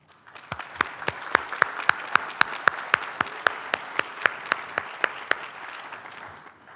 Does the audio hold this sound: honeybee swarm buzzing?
no